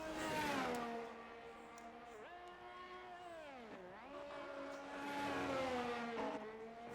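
Ferrari race car engine in a racing video game, a sustained revving whine rising and falling through gear changes, steady and fairly loud with no talk over it.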